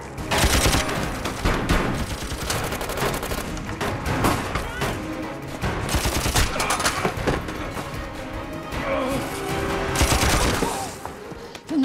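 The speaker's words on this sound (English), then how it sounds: "they're shooting in the right direction" Rapid bursts of gunfire crackle through a shoot-out outside a bank, with dense volleys and machine-gun-like rattles continuing loud and nearly unbroken, while voices occasionally break through the chaos.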